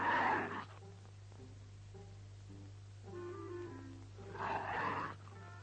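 A voice imitates a lion roar, loud bursts at the start and again near the end with quieter growling in between, in a 1947 Western film scene set near mountain lion country, over a steady low hum.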